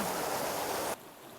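A muddy, clay-banked river along the Continental Divide Trail rushes steadily as a broad, loud wash of flowing water that cuts off abruptly into quieter background after about a second.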